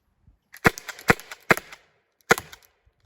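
A Byrna SD Air launcher fires four sharp, loud shots in an uneven rhythm, each crack with a short ringing tail, then fades to near silence.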